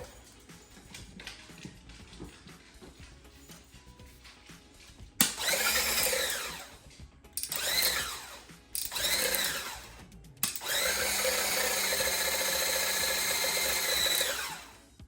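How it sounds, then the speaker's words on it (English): A Cuisinart Smart Stick hand blender's whisk attachment whips milk, whirring in several loud bursts, starting and stopping, then running steadily for the last few seconds. "the whisk, as you can see, works amazingly quick"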